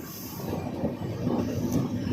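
Low rumbling train arriving at Jangaon railway station, with a rolling clatter of wheels and a faint squeal, steady and moderately loud.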